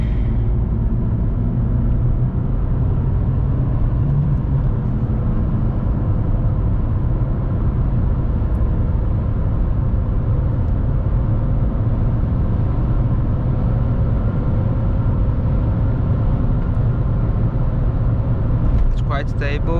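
Inside a Volkswagen Golf MK4 1.4 with 75 hp cruising on the Autobahn, a steady, loud low engine-and-road drone holds unchanged throughout, with a faint rustle near the end.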